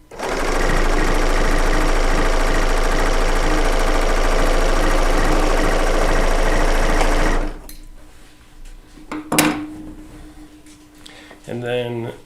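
A serger stitches quilt strips in a fast, steady mechanical whir lasting about seven seconds, then stops, leaving a few faint clicks and handling sounds.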